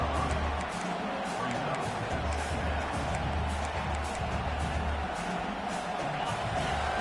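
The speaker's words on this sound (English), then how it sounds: "Listen to the crowd energy here in the early going." A large crowd roars steadily in an open stadium at a Clemson versus Florida football game, a continuous wash of cheering and noise with occasional low thumps underneath.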